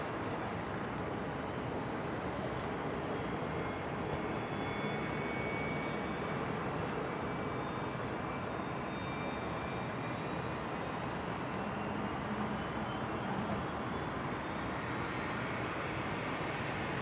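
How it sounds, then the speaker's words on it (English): Singapore Airlines jet taxiing along Alpha 9 toward the international terminal at Brisbane Airport, a steady broad engine roar with a faint rising whine, continuous and fairly distant with no talk. "So Singapore making its way to the end of the runway, Alpha 9, for a nice short taxi into the international terminal."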